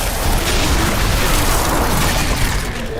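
Explosion in Diablo 4, heard as a dense, sustained rumbling roar that stays loud and steady across the whole moment, with no talk over it.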